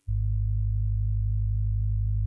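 The isolated sub bass band of a synth patch holds a deep, steady low tone, loud and constant from a sharp onset with nothing else above it, alone for just over two seconds.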